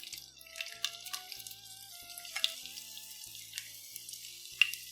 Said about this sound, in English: Let's add these to this pot where I have heated a quarter cup plus 2 tablespoons of oil